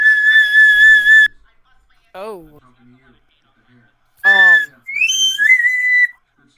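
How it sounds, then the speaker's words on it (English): A slide whistle blown loud and close in a podcast studio, sweeping up and down in several rising and falling glides with pauses between, a brief spoken word in between. "slide whistle."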